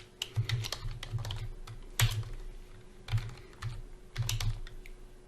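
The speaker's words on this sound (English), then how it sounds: "So I keep typing." Someone types steadily on a computer keyboard while entering a laboratory search in a genetic testing lab's web tab. The keystrokes come in quick bursts with short pauses between them, close and crisp, and nobody speaks.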